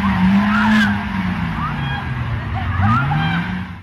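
A car in a street in Yenimahalle, Ankara accelerates while dragging a young woman along, its engine whining and rising in pitch, with tyre scrapes and shouting voices mixed in throughout.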